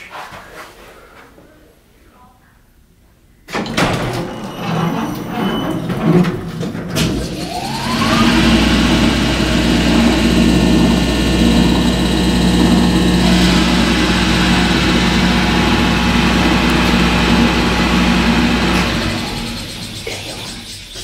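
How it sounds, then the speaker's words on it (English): Motor of a modified Colley hydraulic elevator in a Chicago apartment building running with a steady low hum and whine, then winding down as the belt spools down near the end, with a faint voice heard early on. "Listen to this motor"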